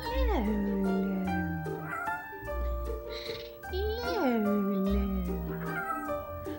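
A cat meows in close, drawn-out, rising and falling cries, several in a row, while someone talks softly and affectionately over them indoors.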